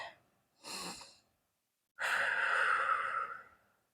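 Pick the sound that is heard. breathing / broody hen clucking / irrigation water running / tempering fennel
breathing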